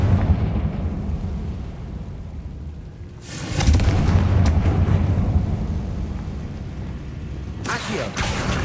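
A Confringo spell detonates in Hogwarts Legacy with a booming burst around the middle, followed by rumbling debris and a second sharp crack near the end, over steady game ambience.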